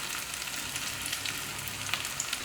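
Shallots, curry leaves and coriander sizzle in hot oil, a steady bright crackle with scattered pops, close and continuous with no talking.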